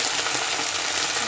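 Jute greens frying in hot oil in a wok, a steady close sizzle that fills the brief moment without pause.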